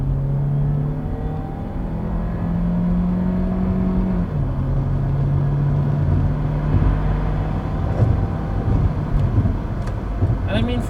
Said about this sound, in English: And the engine's willing and able and sounds nice.